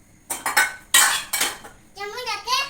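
A spoon clinks against a dish of Maggi noodles in a home kitchen, sounding as several bright, close taps and scrapes in quick bursts, with a voice heard briefly at the end.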